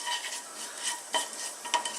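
A few cumin seeds crackle and sizzle softly in hot oil in a pan, with faint scattered pops and a couple of light clinks over a quiet hiss.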